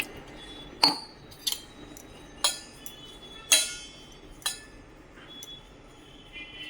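A spoon clinks against a bowl of semolina soaking in a little water, six sharp metallic taps spaced irregularly over a quiet background.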